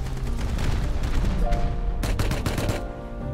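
Rapid video game gunfire keeps up a dense, steady clatter of close shots, with a brief heavier cluster near the end and no clear talk over it.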